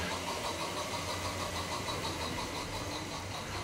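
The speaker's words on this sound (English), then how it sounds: "the chuff chuff sound does sound a little bit on the frantic side when we do that" Tri-ang Hornby model train locomotive running fast, its rapid chuffing merged into a steady, frantic whirring rumble from the motor, heard fairly quietly and continuously with no talking.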